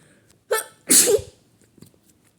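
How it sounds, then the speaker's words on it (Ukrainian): One person gives a single sharp sneeze, a short intake followed by a loud, breathy burst, close and alone, with quiet room noise around it and a faint rustle afterward. "Щось чхнути захотілось."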